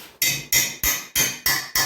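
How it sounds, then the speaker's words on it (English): A half-ounce ball peen hammer taps the 225 intake manifold of a 1974 Dodge D100 six times in a steady rhythm, each strike a sharp, close metallic knock. There is no talking. "Get a little hammer there and tap on that a little."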